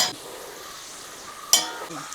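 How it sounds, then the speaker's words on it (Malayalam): Onions fry in oil in a pot for Hyderabadi biryani, giving a soft continuous sizzle with a couple of sharp stirring scrapes near the end. "സവോളയൊക്കെ വറുത്ത് പോകുമ്പോൾ കരിഞ്ഞു പോകാതെ ശ്രദ്ധിക്കണം"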